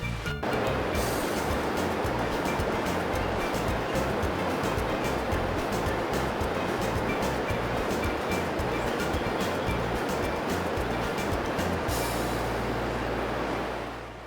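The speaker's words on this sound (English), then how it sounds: "the sound of water was from the Rio Mindo, not the rain" Steady broadband rush of the Rio Mindo flowing near Mindo in western Ecuador under clear skies, loud and continuous throughout with no pauses or voices.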